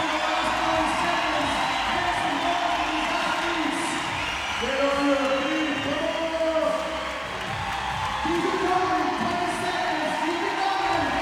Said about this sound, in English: this crowd trying to get behind the 19-year-old